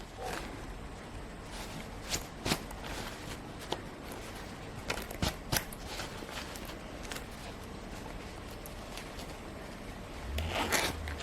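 A skirt zipper is drawn slowly with faint, intermittent rasping clicks, ending in a brief louder rustle, all fairly quiet and close.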